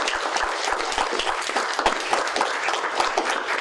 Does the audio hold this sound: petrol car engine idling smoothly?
no